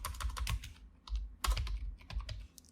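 Rapid, close keystrokes on a computer keyboard come in three short bursts separated by brief pauses, loud and crisp with a dull thump under each key press, while code is typed.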